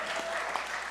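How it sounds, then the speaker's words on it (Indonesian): A church audience in a New York congregation claps in a brief, even burst of applause lasting about a second. "Tepuk tangan dulu dong"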